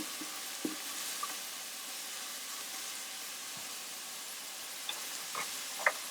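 Mushrooms sautéing in a pan over medium-high heat give a steady, soft sizzle throughout, with a few faint clicks and stirring taps scattered across it and no talking.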